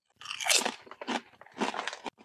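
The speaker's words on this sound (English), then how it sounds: "Has a nice, satisfying crunch to it." Salt and vinegar potato chips being bitten and chewed up close, with loud crisp crunches in several bursts and a short pause between them.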